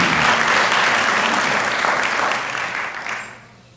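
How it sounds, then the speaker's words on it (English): A hall-of-fame ceremony audience breaks into loud, dense applause that holds steady for several seconds, then tapers off toward the end. "So I think he deserves a round of applause."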